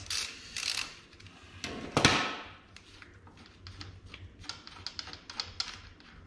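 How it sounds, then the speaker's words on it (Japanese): Ratchet wrench loosening the front brake caliper bolts on a Kawasaki 250TR, quiet close clicking in quick bursts with a few sharper metallic clacks and rustles. "止めているボルトを外します。"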